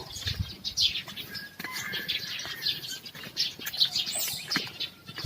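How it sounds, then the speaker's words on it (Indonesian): Birds in the early morning outdoors, wings flapping and fluttering close by with scattered chirps and tweets, irregular and busy, moderately loud. "Pagi-pagi dengar suara ini binatang, burung nih"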